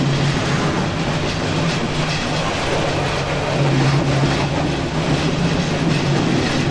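The Dhumketu Express train runs from Rajshahi toward Dhaka, a loud continuous rumble of wheels and carriages rolling steadily past at close range, with no talking.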